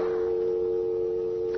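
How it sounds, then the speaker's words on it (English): Telephone dial tone from an old radio drama, a steady, loud, continuous hum after the receiver is hung up, heard alone with no voices. "you'll phone Corey the second I hang up"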